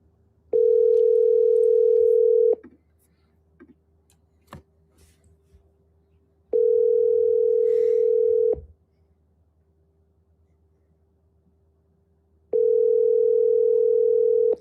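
A telephone call's steady tone sounds in three clear two-second pulses with long silent gaps between them, loud and close on the line.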